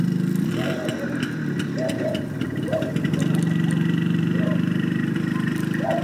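A motorcycle engine in winter outdoors near Khabarovsk runs at a steady, even idle with a rough mid-pitched thrum, heard close, while faint voices rise now and then behind it.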